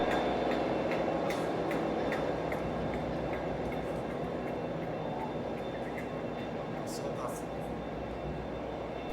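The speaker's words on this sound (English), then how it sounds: "It's a Class 57 diesel locomotive built from a Class 47." A Class 57 diesel locomotive, rebuilt from a Class 47 and stopped with injector problems, idles at Edinburgh Waverley station with a steady low rumble and drone, joined by faint station noise and brief higher clanks near the end.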